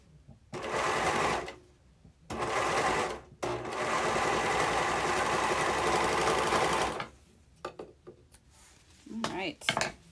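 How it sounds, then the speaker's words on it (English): A serger hums in long, loud close-up runs as it finishes the inside edge of a costume glove, stopping and restarting several times, followed by a few small handling clicks. "Inside edge, nice and serged."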